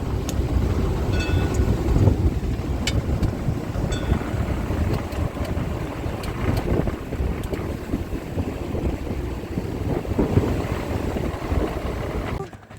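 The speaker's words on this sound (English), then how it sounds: "it's a little bit hard when it's leaning so much and it's a lot of wind and noise" Strong wind roars steadily over a heeling sailboat, a loud, constant rushing buffet against the microphone with faint creaks and rattles, continuing almost without pause for over ten seconds.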